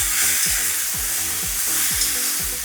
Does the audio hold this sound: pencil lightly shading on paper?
no